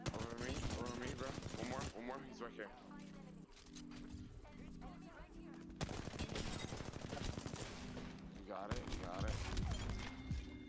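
Pistol and other weapon fire in the online battle game Apex Legends, sharp rapid shots in bursts mixed with game effects, while players talk excitedly over the action.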